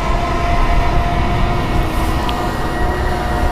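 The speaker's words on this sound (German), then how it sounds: "hier vorne fährt ein De-Icing-Fahrzeug lang" An airport de-icing vehicle rolls past on the apron at Frankfurt Airport, giving a loud, steady low engine rumble with road noise and no voices.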